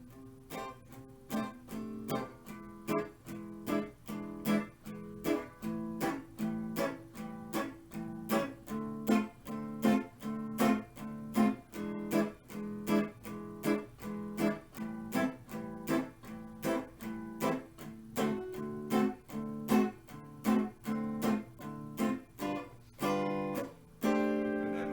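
Guitar comping chords, a strummed downstroke on each beat in a steady even pulse, the chords changing along the way, fairly quiet and played alone.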